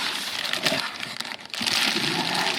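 Thin plastic of a blue bag crinkles and rustles close by in uneven bursts, fairly quiet, with no talking.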